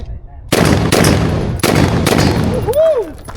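Four loud, sharp gunshots from a SIG Sauer MCX Rattler rifle crack out at an uneven pace on a shooting course, each with a short ringing tail, followed by a faint whistle-like tone.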